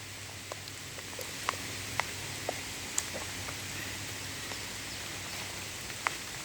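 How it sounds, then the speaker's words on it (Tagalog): Rain falls outdoors in a quiet, steady hiss, with scattered faint drops tapping now and then; no voices. "Umuulan na atay."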